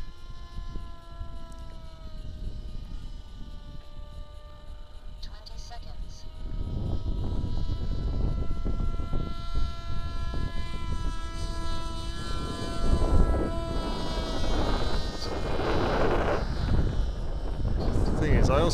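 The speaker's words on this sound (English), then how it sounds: "the prop's too close to the back of the wing and it's very, very noisy" An FPV flying wing's motor and pusher propeller, mounted too close to the back of the wing, whine with steady tones that swell into a loud, rough, buzzing roar as the craft flies, with wind rushing across the microphone.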